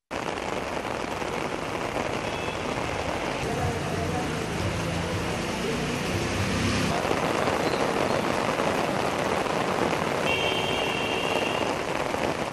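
Heavy rain pours onto cotton fields, a dense, constant hiss of drops lasting the whole stretch, with a faint murmur of voices and a few tonal sounds underneath.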